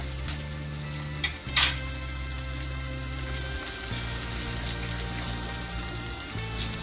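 Eggs for anda bhurji fry in a hot pan with a loud, close, continuous sizzle, punctuated by a couple of sharp clatters and stirring scrapes.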